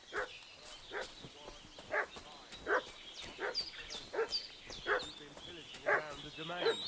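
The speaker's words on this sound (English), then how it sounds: "What's that dog making such a fuss about?" A dog barks repeatedly in the video game Kingdom Come: Deliverance II, a steady series of sharp, fairly close barks roughly every half second, set against a quiet outdoor ambience.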